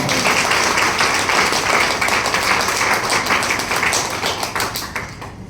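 Guests at a third anniversary event in Lucknow clap loudly together, with a brisk, dense patter that gradually fades toward the end.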